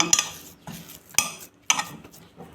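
A spoon scrapes and clinks against a bowl while mashed potato filling is mixed, with sharp metallic taps recurring in a loose rhythm between softer stirring scrapes, close by and moderately quiet.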